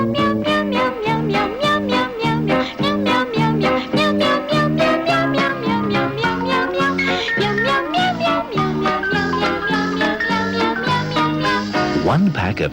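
Voices sing repeated meow sounds in a bouncy rhythm over lively music in a 1981 Meow Mix cat food TV advert, imitating a cat throughout.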